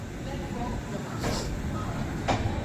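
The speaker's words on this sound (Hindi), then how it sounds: "भाई अपनी डिपार्ट हो चुका है वाराणसी जंक्शन से अपनी अमृत भारत एक्सप्रेस का" An Amrit Bharat Express train pulls away from Varanasi Junction with a steady, close rolling rumble and a few brief rattling swells. A faint murmur of voices is mixed in.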